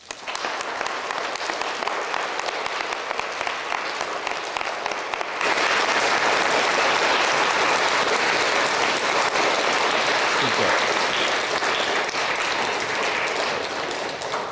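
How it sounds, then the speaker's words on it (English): A congregation in church gives a round of applause to welcome a new member during Mass, starting as scattered clapping and swelling into loud, sustained applause that continues to the end. "Let us receive him with a nice round of applause."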